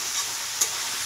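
Chicken lightly frying in a pan as it is stirred, a steady soft sizzle with one quick scrape of the spatula midway, close and alone without talk.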